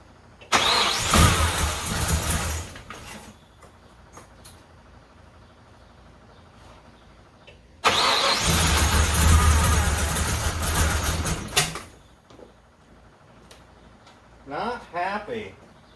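A 454 big-block engine in a 1970 Monte Carlo with a four-speed is cranked and started twice. Each time it catches with a loud burst and runs a few seconds before cutting out, leaving quiet gaps and a few short sounds at the end.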